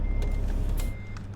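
A truck reversing in TruckersMP gives off a steady electronic beeping over the low rumble of its engine, with the beep tone cutting out briefly and returning.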